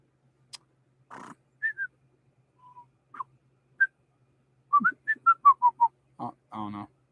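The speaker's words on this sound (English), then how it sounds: "The fucking whistle thing he does is nuts." A person makes a distinctive whistling routine of short, sharp chirps, isolated at first, then a rapid run of about a dozen quick whistled notes stepping downward, ending with a couple of breathier tones, close and clear in near silence.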